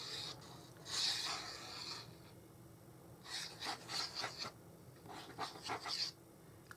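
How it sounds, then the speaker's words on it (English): Metal precision tip of a glue applicator scratching across paper cardstock on a fold card, in several short raspy bursts with pauses between them, close and fairly quiet. "I'm sorry for the scratchy, but it is a metal tip. Metal precision tip."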